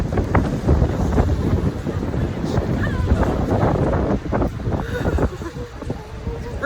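Cold, windy rain outdoors on a city street, with steady wind buffeting and a continuous rushing wash of noise throughout, fairly loud and close, with some faint background sounds mixed in.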